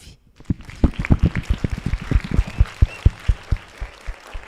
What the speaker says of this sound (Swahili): Simnipigia makofi.